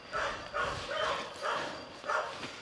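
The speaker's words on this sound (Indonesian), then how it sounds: "Ada suara lolongan anjing terus ya." A dog near a forest village calls out in a string of about five loud, evenly spaced yelping cries, fairly close.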